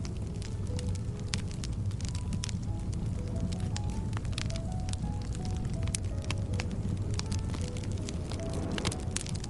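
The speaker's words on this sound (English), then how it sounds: "The fire crackles gently" Crackling campfire outdoors under an open African night sky, a dense steady bed of small pops and snaps over a soft low roar, with faint drifting tones behind it and no talking.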